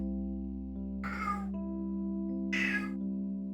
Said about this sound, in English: Why is my cat acting up?